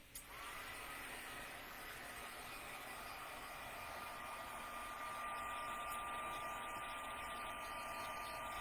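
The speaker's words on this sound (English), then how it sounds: "I am going to heat and emboss this real quick" A heat gun blows steadily throughout for heat embossing, a faint constant fan whir and hiss in a quiet room.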